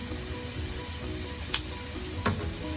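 Garlic sautéing in a pan makes a steady, close sizzle, with two brief, sharp stirring clicks. There is no talk.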